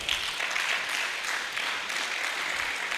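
An audience at a teachers' innovation award ceremony applauds a woman called to the stage, a continuous even patter of many hands at moderate level with no talk over it.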